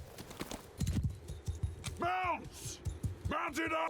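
Cavalry horses gallop across a battlefield in Mount & Blade II: Bannerlord, a dense run of close clip-clopping hoofbeats broken by a couple of shrill whinnies.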